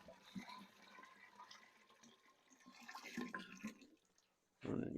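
Water runs into a new Spike brew kettle, about six gallons being filled for cleaning and passivation, a steady splashing rush that fades near the end before a louder burst of flow.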